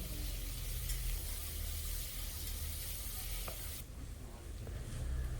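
Large tomato pieces frying in a pan for a pressure-cooker egg biryani give a steady, soft sizzling hiss that continues alone without a break, with a slight change in tone near the end.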